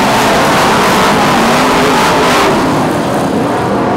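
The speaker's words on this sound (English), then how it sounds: "Green flag goes out and away we go with the Ford Stock Cars Dave Leonard Memorial Final." BriSCA F1 stock cars roar off at the start of a race, a dense, loud wall of engine noise with revving and acceleration from several cars, continuous and close throughout.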